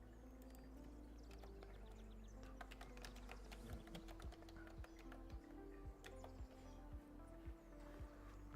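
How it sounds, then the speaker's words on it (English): Computer keyboard typing during a session of the online game Pantheon, a rapid run of clicking keystrokes with irregular rhythm, close and fairly loud over a steady low game hum and music. "I can't see myself typing."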